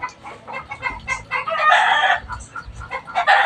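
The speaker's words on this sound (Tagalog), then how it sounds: "Kakasura yung mga manok, ang ingay." Caged four-month-old chickens clucking loudly and repeatedly, with a rooster's crow rising through the middle, close and busy with no talking.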